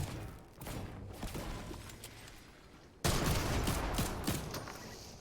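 A bot in a video game fires gunshots at players as they land, with bursts of rapid gunfire at mid distance that swell suddenly louder partway through and continue in dense volleys.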